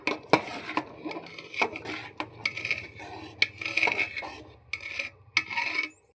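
Vegetables stirred into a pot of winter vegetable khichuri with cauliflower, giving repeated scraping, rasping strokes and clinks of a utensil against the pot over a low steady background, with no talking.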